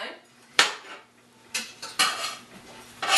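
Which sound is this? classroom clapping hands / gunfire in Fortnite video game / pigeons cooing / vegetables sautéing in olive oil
vegetables sautéing in olive oil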